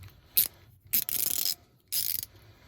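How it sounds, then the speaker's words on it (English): A small screw being turned loose on a leaking faucet, giving three short, close bursts of gritty metallic creaking and scraping. "then open the screw without breaking it off"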